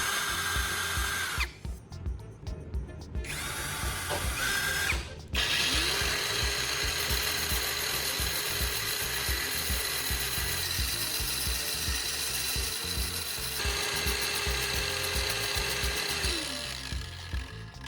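A rivet clamped by its head in a power drill chuck spins against a grinder to sharpen its long shaft, giving a steady mechanical whirr and ratcheting grind that runs nearly the whole time, with brief pauses near the start.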